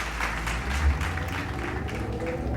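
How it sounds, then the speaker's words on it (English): Dirt and mud flung off the tires of a 2011 Crown Victoria driving at night in Chicago, a continuous whooshy, crackling spatter over steady road and engine noise. "That's the dirt that's on my tires coming off."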